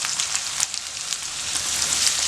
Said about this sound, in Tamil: இதில் 3 பெரிய வெங்காயத்தை கட் பண்ணி வச்சுருக்கேன், நீளமாக அதை போட்டுக்கலாம்.